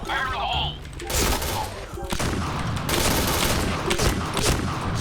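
Rapid bursts of gunfire in the online shooter game PB crackle almost continuously, loud and dense, with shots overlapping into a steady barrage and a few heavier thuds mixed in.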